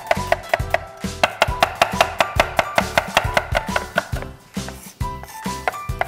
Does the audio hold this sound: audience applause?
no